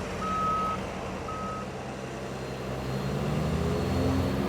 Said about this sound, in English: And now it's reversing to the big I think pickup.